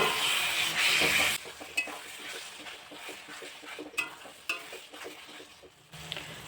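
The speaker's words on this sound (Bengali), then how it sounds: "তো মশলাটা আরেকটু ভালো করে কষিয়ে নেব।" Masala for mutton kosha, with added mutton fat, is stir-fried in a pan: a loud sizzle at first, then quieter frying punctuated by scraping and clinking strokes of a spatula against the metal.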